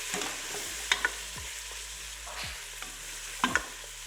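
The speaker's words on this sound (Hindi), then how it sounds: "इसको फ्राई करेंगे गोश्त को, ताकि जो गोश्त की स्मेल होती है ना" Mutton pieces frying in a pan for a bottle gourd and meat curry, a soft continuous sizzle broken by several scraping strokes of a spoon stirring them, close and quiet.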